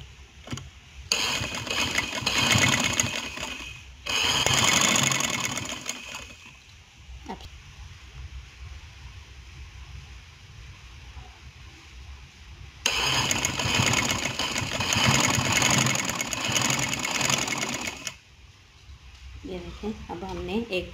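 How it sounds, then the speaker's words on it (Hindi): A sewing machine stitches the sleeve of a kurti in two long, steady whirring runs separated by quieter pauses, with a brief voice near the end. "अब हमने एक तरफ की सिलाई लगा ली है, अब दूसरी तरफ की हम सिलाई लगाएंगे बाजू अटैच करते हुए।"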